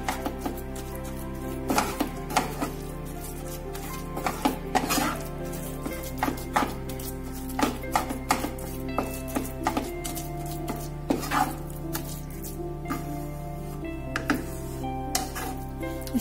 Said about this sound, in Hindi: और इसे अच्छे से हम चलाएंगे।